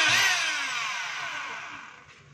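A DeWalt D25144 rotary hammer whirs loudly for a moment after starting and then winds down steadily over about two seconds, with no voices.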